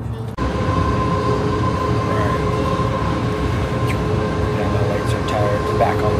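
A train riding along on a rail line in Portland, a loud steady rumble and hum of the carriage with a faint tonal whine and occasional squeaks, heard from inside the car.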